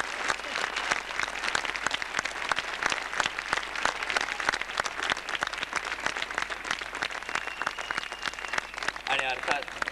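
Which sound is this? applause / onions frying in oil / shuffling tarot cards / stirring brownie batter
applause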